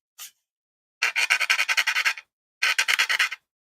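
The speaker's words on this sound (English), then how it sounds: "A lot of sanding. There's always a lot of sanding." Sandpaper rubbing over a scale-model door, in one brief stroke followed by two runs of quick rhythmic back-and-forth scratching, close and crisp with short pauses and no voices.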